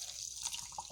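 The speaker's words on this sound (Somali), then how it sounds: "waxaan ku daray caano" Milk being poured into a blender for a home recipe, a brief faint liquid trickle with small drip-like splashes, close by with no talking.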